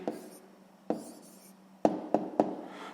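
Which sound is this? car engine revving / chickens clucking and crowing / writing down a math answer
writing down a math answer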